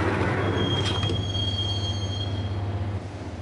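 Subway train in the video game Max Payne, a loud steady metallic rumble with a thin, high wheel squeal running across it, close and continuous before easing slightly near the end.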